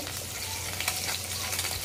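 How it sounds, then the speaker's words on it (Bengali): Soft, steady sizzling of fish frying in a pan, a quiet continuous crackle with no voices. "এখন এক পিঠ ভাজা হলে আমি পরে উল্টিয়ে দিব।"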